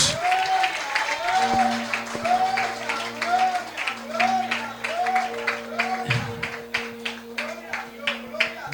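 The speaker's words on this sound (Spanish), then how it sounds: "Ponte de pie y vamos a darle un fuerte aplauso a Jesús" A church congregation standing to applaud, with many hands clapping in a rhythmic, fairly steady beat while sustained music tones and a preacher's voice run underneath.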